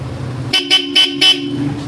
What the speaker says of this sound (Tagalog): demo na natin yung busina, pogi busina.